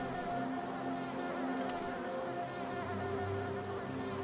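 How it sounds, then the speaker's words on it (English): Steady insect buzzing fills a beehive area in the video game Hollow Knight, a constant droning hum of bees at a low, even level. "It can be hard to hear over the buzzing."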